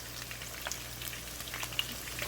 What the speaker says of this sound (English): There's the garlic right there in the oil.